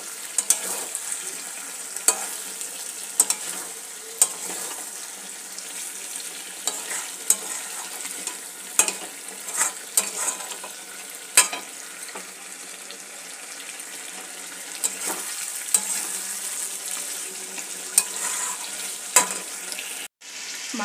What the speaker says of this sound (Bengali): এখন চিকেনটা কষা হচ্ছে।